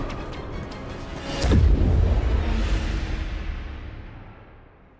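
A close, heavy boom from a fire bomb in Marvel's Spider-Man game swells with a descending whoosh, then rumbles and slowly fades over several seconds.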